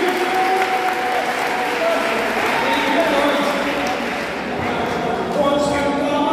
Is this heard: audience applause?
yes